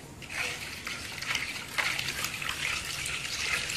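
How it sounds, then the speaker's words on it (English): Gum powder being shaken and stirred into cold water for a final silk wash, a steady sloshing and swishing of liquid with brief louder surges, close and continuous, with no talking. "Shake it and do your best so that all the gunpowder is dissolved in it."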